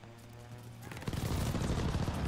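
Strafing gunfire in a Call of Duty match: after a faint hum, a dense burst of rapid shots and impacts erupts midway and keeps rattling loudly to the end.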